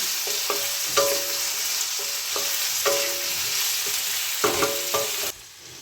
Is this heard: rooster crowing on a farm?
no